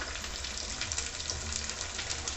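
Lotte fish (Bombay duck) fries in hot oil with a dense, even hiss that holds steady and close from start to finish, with no voices over it.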